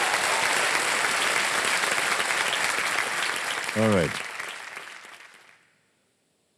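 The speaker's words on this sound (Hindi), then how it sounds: "एक बार फिर जोरदार तालियां सुमित कुमार की।" Loud studio audience applause on a television quiz show for a contestant, steady and dense before fading out to silence near the end; someone speaks briefly partway through.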